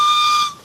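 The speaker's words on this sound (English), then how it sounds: "I'm going to open the drain cock so that any condensation, any steam that's condensed into the cylinders gets blown out the front" Steam blowing from the drain cocks of a steam locomotive's cylinders, a steady whistling hiss with a sharp tonal edge that holds for half a second, then drops off quickly to a fainter rush.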